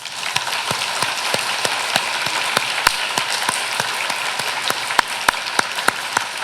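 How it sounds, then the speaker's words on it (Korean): A church congregation claps together in steady, fairly even rhythm during a service, with sharp individual claps standing out over a continuous wash of clapping for several seconds. "우리 하나님 앞에 박수 한번 하자."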